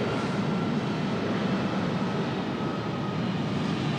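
A Boeing 787-9 Dreamliner passes over Washington Dulles airport in the flight simulator game MSFS 2020, a steady, broad jet engine roar holding at even loudness with no talk.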